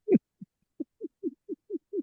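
An owl hoots in a run of about eight soft, low calls at a fairly even, unhurried pace, heard alone against silence.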